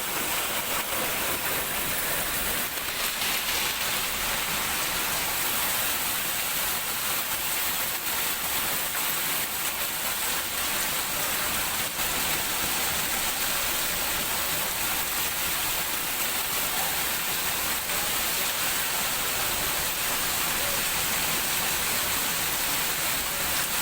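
Steady rain falling in a Makrana town street area, a continuous broadband hiss and patter that holds evenly throughout with no voices.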